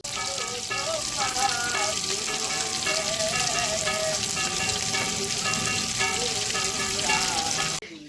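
Food frying in hot oil in a home kitchen, a continuous even sizzle with a tonal background sound beneath, cutting off abruptly just before the end.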